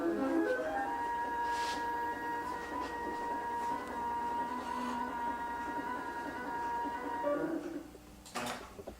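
A computerized quilting machine runs its motors to travel to the start position, a steady mechanical whine with tonal hum lasting several seconds before stopping, followed by a brief clunk.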